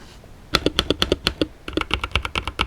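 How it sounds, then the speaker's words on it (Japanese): Someone types on an Ajazz AK680 wired mechanical keyboard with light switches and a hollow plastic echo. Crisp, close clacks fall in two quick bursts after a short quiet start, alone with no talk. "とても軽く青軸ほどではないですが、カチャカチャとプラスチックの反響が目立ちます。"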